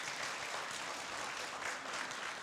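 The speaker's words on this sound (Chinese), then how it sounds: "我们给他们一个热烈的掌声" Dense, steady audience applause fills a hall at a Hakka culture conference, with many hands clapping evenly throughout at a fairly faint level.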